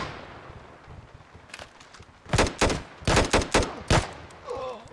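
Bursts of gunfire in the video game Ghost Recon, a series of loud, sharp close-range shots in quick clusters after a quieter stretch, with a fainter sound trailing at the end.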